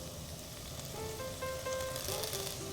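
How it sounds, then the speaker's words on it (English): Tomato rings sizzle in butter in a frying pan, a steady soft crackle and hiss throughout at low volume, with faint tonal clinks over it and no talking. "Put the tomato rings in the pan."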